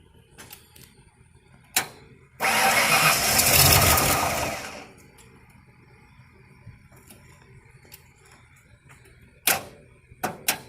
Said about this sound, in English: we started trying to crank for a couple seconds, almost sounded like it was going to fire, and then it stopped